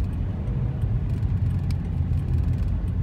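A car creeps slowly along a snowy road during a winter storm, giving a low, steady rumble of engine and tires with faint clicks above it.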